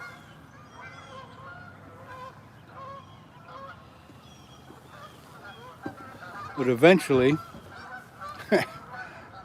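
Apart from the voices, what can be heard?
geese honking while landing on a river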